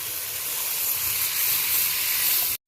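Water poured into hot frying spice paste for a Bengali shol fish curry sends up a loud, steady steam hiss and sizzle that cuts off abruptly at the end, with no talking.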